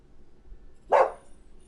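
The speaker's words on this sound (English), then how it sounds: "Stop barking." A single dog bark in the game Detroit: Become Human, one short, fairly loud bark in the middle of a quiet moment.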